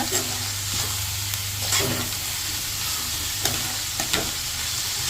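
Cabbage poriyal stir-fries steadily in a pan over low heat with a continuous sizzle, and a few sharp scrapes and clicks of a spatula mixing the shredded leaves.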